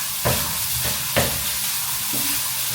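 Sabudana (tapioca pearls) with coriander stirred in a hot pan, three scraping strokes at steady intervals over a continuous close frying sizzle, no voices.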